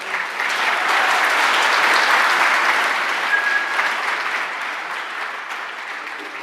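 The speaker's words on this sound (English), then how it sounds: "So after the thunderous applause dies down," Sustained, loud applause from a conference audience at a Droidcon NYC 2015 talk, a dense continuous roar of many hands clapping that swells early and slowly eases off over several seconds.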